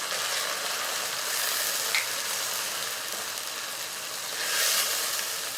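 Garlic ginger paste sizzles and fries in a pan with lightly browned onions, a steady close hiss that swells briefly as it is stirred.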